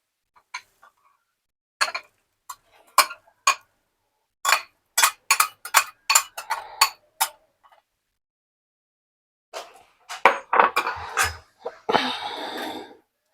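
A spoon stirs custard with cardamom powder in a pan, making a run of light, crisp clicks and taps, a short quiet pause, then a denser burst of scraping clatter.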